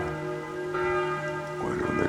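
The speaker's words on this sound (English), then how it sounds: "catching the early morning bells." Church bells ring in the early morning in Rothenburg, Germany, a sustained, resonant peal with lingering overtones. Distant ambient noise rises near the end.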